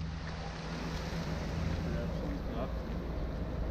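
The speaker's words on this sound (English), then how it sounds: "I can hear the water" Mountain stream water flowing steadily in a rocky mountain setting where trout are caught, a continuous broadband rush and wash with no breaks, fairly close and moderately loud.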